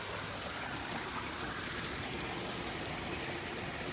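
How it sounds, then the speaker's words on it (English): Floodwater runs through a yard during rain, a steady wash of flowing water and falling rain with an even hiss throughout. "you can see where the water flow is"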